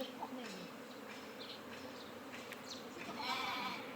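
An escaped honeybee swarm buzzes faintly and continuously outdoors, a soft, steady drone of many wings.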